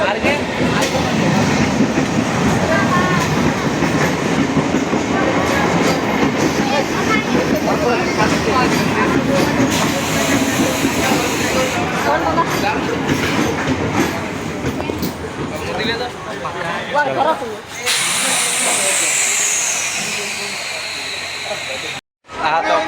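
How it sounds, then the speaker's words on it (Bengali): A train carrying passengers rolls along with a steady, loud rumble and clatter of wheels on rails, a continuous wash of noise that quietens and thins toward the end, with faint voices mixed in. "তো ফাইনালি আমরা ট্রেনে চাপিয়েছি, ট্রেনও ছাড়িয়ে দিল"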